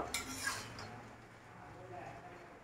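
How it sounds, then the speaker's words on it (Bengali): Mixed vegetables with prawn being turned over in a cooking pan, giving a few clinks and scrapes of a utensil against metal, then a quieter simmering background. "এবার আমি সেটাকে উল্টে পাল্টে দিলাম সবজিগুলো ভালো করে সেদ্ধ হওয়ার জন্য"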